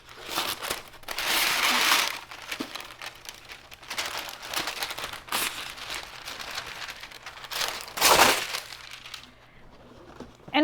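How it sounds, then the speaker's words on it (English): Parchment paper being flipped and pressed down into the corners of a tin or cookie sheet while making frozen yogurt bark, producing repeated loud crinkling and crumpling bursts up close, with quieter handling rustles in between. "for my parchment paper, it tends to roll up on me all the time, so what I do is just flip it over and I try to crease it down into the corners"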